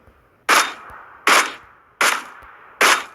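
Four single gunshots from PUBG Mobile gameplay ring out in an even rhythm, each a sharp loud crack with a short decaying tail and near silence between them, with no talking.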